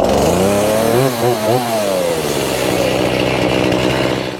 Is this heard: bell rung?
no